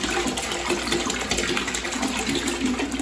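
Liquid vinegar, about a gallon, poured steadily into a tankless water heater flushing setup, giving a continuous gushing, filling sound close by with no talk.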